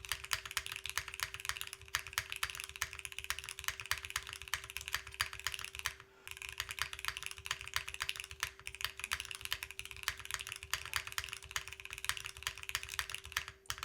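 Steady, rapid clacking from a custom mechanical keyboard with a polypropylene plate, keystrokes running continuously and close with a brief pause midway, over a faint constant electrical hum.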